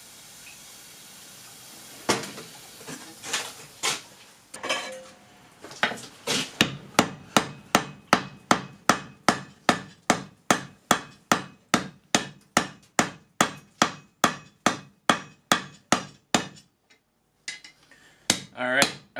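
A hammer repeatedly strikes a flux-coated Damascus steel billet, forged from a pair of scissors, to set a forge weld. Loud, ringing blows come in a steady fast rhythm after a few scattered opening hits, then pause briefly before resuming.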